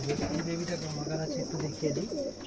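Pigeons in a breeding loft giving soft, low rolling coos, several birds overlapping in a steady murmur at close range, with a faint high insect-like hiss running underneath.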